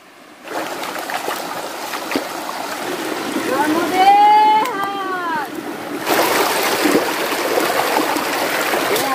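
Clear river water gurgles and trickles as bottles are filled along a riverbank, a steady close splashing flow with a brief bubbling glug in the middle, under outdoor ambience.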